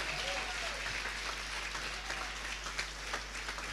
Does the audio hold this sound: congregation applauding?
yes